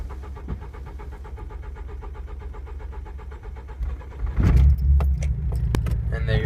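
Keys jingle over a steady low idle-like rumble, then a manual-transmission car's engine cranks and catches partway through and settles into a louder, steady running drone.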